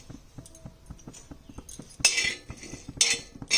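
Coriander, cumin, fennel, fenugreek and dried chilli are dry-roasted in a pan for tomato chutney, with a spoon clinking and scraping against the metal in irregular taps and two louder scraping bursts.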